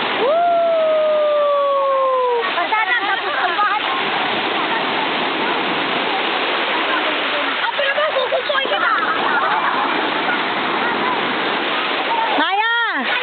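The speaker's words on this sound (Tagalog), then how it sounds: "Ang lakas ng alon." Strong sea waves crash and wash continuously in a loud, roaring surge that fills the scene, with voices talking and calling out over the water.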